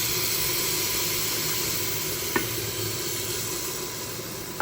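Onion, ginger and hot water go into spices frying in hot oil for khichuri, giving a loud, steady hissing sizzle close by with a couple of faint clicks.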